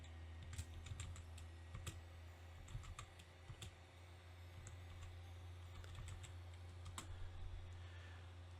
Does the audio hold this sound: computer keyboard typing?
yes